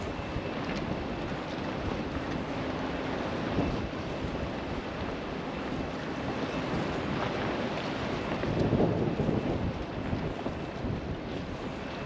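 Wind buffets the microphone in a steady low rush in a port at Skagway, Alaska, swelling briefly near the end, with faint water and boat noise underneath and no voices.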